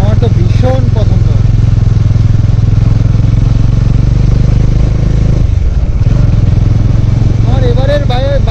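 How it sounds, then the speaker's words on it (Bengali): Motorcycle riding along a scenic forest road near Bishnupur, its engine a steady loud drone throughout with brief dips, while someone talks over it at several points. "বাইক চালিয়ে মজাই একটু অন্যরকম।"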